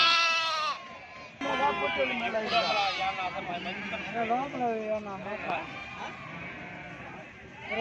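Young lambs crowded in a cart at a weekly sheep market in Gudur bleat repeatedly and close by, overlapping wavering cries filling the whole stretch with a faint gap early on.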